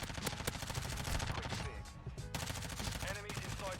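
Rapid bursts of submachine gun fire from the Lachmann Sub in Modern Warfare 2, loud and close, with shots rattling in quick rhythmic strings and a brief pause midway.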